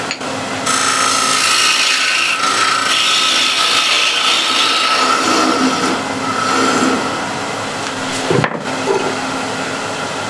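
Loud, continuous scraping of a spindle gouge against spinning wood on a lathe, with a steady motor hum and a brief knock near the end.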